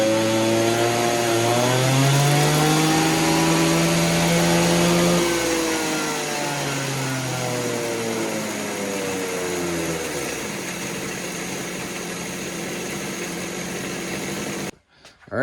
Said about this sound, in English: We're going to do some test and tune.